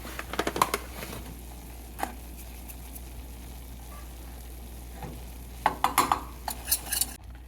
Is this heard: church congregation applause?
no